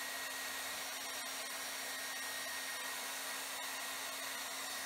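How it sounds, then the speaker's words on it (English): A hair dryer melting crayons blows steadily with a constant whirring hum and broad airy rush, close and unbroken throughout, with no voices. "How you angle your hairdryer will change how it melts."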